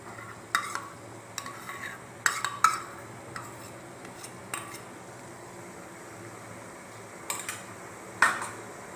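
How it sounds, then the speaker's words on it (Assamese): Mango jam stirred in a pot over a low gas flame, a spoon scraping and knocking against the pot in irregular bursts, close and clear over a quiet background. "এতিয়া খুব ভালকৈ এইখিনি লৰাই দিম"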